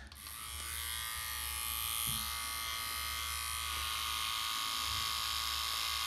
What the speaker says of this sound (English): So, let's get all this hair off my face.